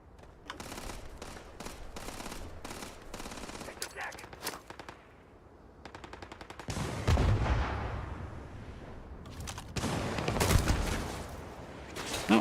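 Gunfire in the video game Starfield, with rapid bursts of shots through the opening seconds and heavier, louder blasts around seven and ten seconds, all over a busy game soundscape.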